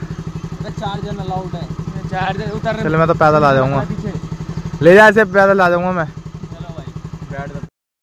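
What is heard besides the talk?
motorcycle engine running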